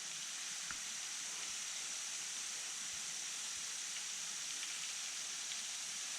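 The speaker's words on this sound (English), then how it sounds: "This is the tallest waterfall in Kentucky." Yahoo Falls in Kentucky, the state's tallest waterfall, pours in a steady, unbroken broadband roar heard from a moderate distance, with no one speaking.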